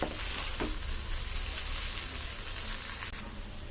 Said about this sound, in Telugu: ఐ ఫ్లేమ్లో పెట్టుకుని టూ మినిట్స్ బాగా కలుపుకోవాలి